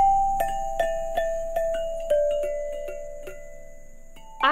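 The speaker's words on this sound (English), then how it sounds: "I think it sounds kind of like wind chimes when you're inside and you just kind of hear the faint music being made." Outdoor percussion instruments playing a slow series of struck, ringing metallic tones, each strike decaying gently, muffled and faint as if heard from inside a library.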